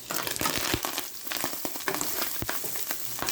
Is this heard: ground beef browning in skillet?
yes